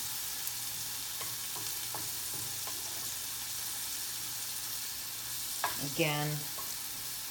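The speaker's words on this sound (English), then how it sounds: "I do want to just be careful to make sure that I don't burn this bacon." Bacon frying in a pan for a spinach and bacon salad, a steady faint sizzle and crackle running throughout, with a few clinks and a short voiced sound near the end.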